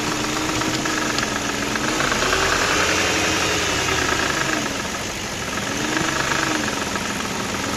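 A BMW E53 with the M62B46 V8 running at close range, a steady engine drone carrying a persistent knocking from the motor, with no one talking.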